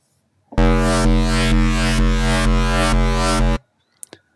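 A buzzy, square-edged synth tone from a squarified single-cycle wavetable in Serum holds one steady pitch for about three seconds, pulsing gently in even beats, then cuts off abruptly.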